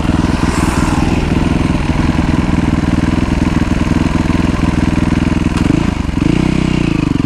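Motorcycle engine running loud and close as it is ridden without using the clutch, a steady chugging drone that shifts pitch near the end, with no talking.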